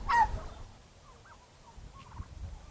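Farm turkeys gobble in a brief burst at the start, loud and close, then fainter scattered calls follow over a low background murmur.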